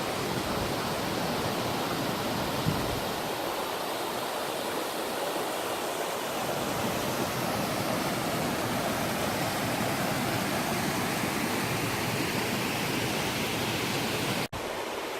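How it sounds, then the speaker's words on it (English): A mountain waterfall in a gully on the way up to a peak on Vancouver Island, a steady loud rushing roar of falling water, continuous and broadband, nearby and alone. "A lot of waterfalls along the way."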